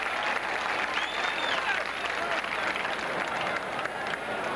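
A large crowd at a 1978 college football game, Texas A&M at Arkansas, cheers and roars in a continuous dense wash of noise, broad and sustained without letup.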